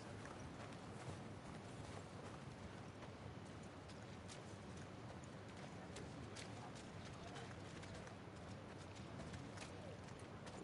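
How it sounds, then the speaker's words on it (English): A horse walks in The Last of Us Part II, its hooves clip-clopping in a steady, dense rhythm that runs for the whole stretch beneath a person talking. "Getting on horseback."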